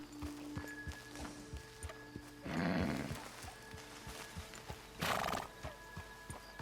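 A horse named Mercy in Red Dead Online walks with steady clip-clopping hooves and lets out two loud, close neighs, spaced a few seconds apart.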